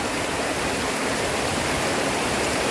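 Floodwater rushing after heavy rain from storm Wutip at Huai Kud Hae, Kusuman district, a steady broadband roar of flowing water that stays continuous and fairly loud throughout, with no voices.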